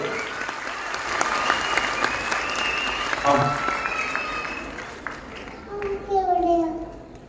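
Audience at an anganwadi gathering applauding, a sustained wash of clapping from a crowd with children's voices and chatter mixed in, fading toward the end as speech takes over.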